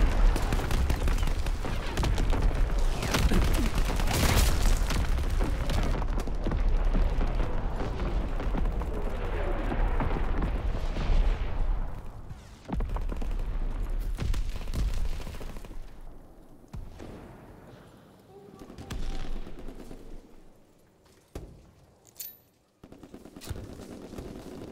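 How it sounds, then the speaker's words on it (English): Artillery strike in Call of Duty WW2, with dense rumbling blasts and gunfire for several seconds, thinning out into scattered distant booms and sharp reports. "Firing battery one. Target position confirmed."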